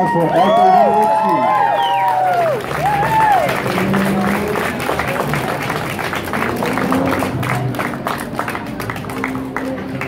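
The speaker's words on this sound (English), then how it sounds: "A round of applause for Arthur Hedowitzki." Audience applause at a Life Goes On Foundation gathering, loud and sustained for about ten seconds, with excited voices, whoops and chatter mixed in throughout.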